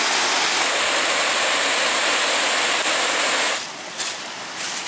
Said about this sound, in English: This is just one of the waterfalls.